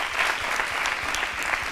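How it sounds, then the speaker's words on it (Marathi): Audience at a talk on society clapping together, a steady, dense burst of applause filling the whole moment. "याच्यासाठी एकदा जोरदार टाळ्या."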